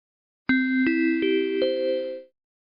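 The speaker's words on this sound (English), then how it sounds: "The first bell of the day rang." A school bell rings the first bell of the day as four bright chime strikes in steady succession, each ringing on and overlapping into a sustained tone that fades out. No talking is heard.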